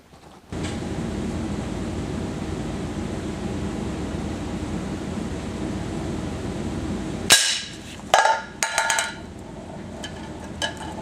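A Crosman Fire air rifle sends a heavy lead pellet into a real tin can: after a steady hum of background noise, a sharp metallic crack lands, followed by a few clattering knocks and rattles.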